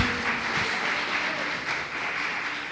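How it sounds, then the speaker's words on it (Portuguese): A church congregation applauds at the close of a service, a steady wash of many hands clapping at moderate volume, slightly fading toward the end. "Aplauda ao Senhor Jesus."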